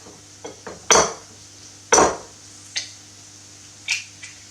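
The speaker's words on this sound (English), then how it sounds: "Let's crack our eggs." Eggs cracked on the rim of a bowl for an omelette with onion and bacon, two sharp close knocks with a few lighter taps and clinks around them.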